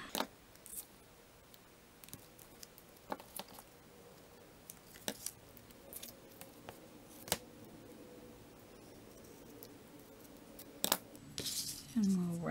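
Scissors trimming paper for a handmade stamped card, giving a scattered series of short, crisp snips over a quiet background.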